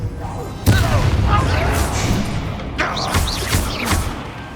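The Bombarda blast spell in Hogwarts Legacy lands as a loud booming impact, followed by rumbling debris and a second, softer burst a couple of seconds later, with voices faintly mixed in.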